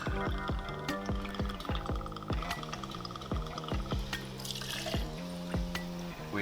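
White or gold tequila is poured into a cocktail shaker with ice, giving a steady liquid trickle over a run of sharp clinking ice knocks, close and clear.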